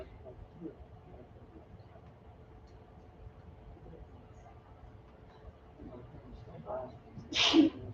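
A single sneeze bursts out near the end after a stretch of quiet room noise, close and fairly loud.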